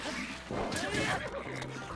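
A horse in the video game Breath of the Wild lets out a loud, wavering whinny that rises and falls over about a second, with faint hoof clops and game ambience around it.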